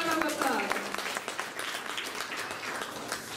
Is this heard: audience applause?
yes